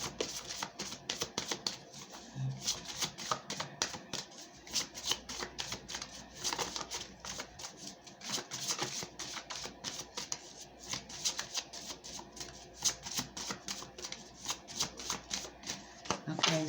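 A deck of prayer cards is shuffled continuously, producing rapid close-up riffling and flicking clicks in a steady texture throughout, with a person talking quietly over it.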